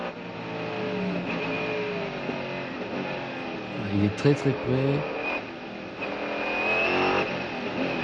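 A Mercedes CLK GTR race car engine drones steadily at speed during the 1999 Le Mans 24 Hours, with bumps and rattles over kerbs and brief surges, while someone talks over it throughout.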